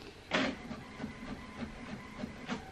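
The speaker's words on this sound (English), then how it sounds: "I think my dad is printing something." An indoor printer runs in the background, making a faint, steady whir broken by regular soft clicks and paper-feed shuffles about every third of a second.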